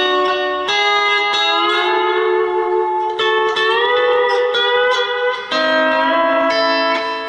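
A lap steel guitar, played with the bar slanted across the second and first strings, rings out sustained, bright, bell-like notes with smooth slides between pitches, close and loud, with no talk over it.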